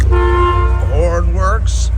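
Horn of a 1971 Chevrolet Corvette 454, a loud, steady toot held for about a second over an idling engine, followed by someone talking briefly.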